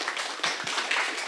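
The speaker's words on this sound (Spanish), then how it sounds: "pues saludemos con un aplauso al profesor David Bernstein" An audience gives a short round of applause welcoming professor David Berenstein at a lecture on superstrings, a dense patter of many hands that is moderately loud and continuous throughout.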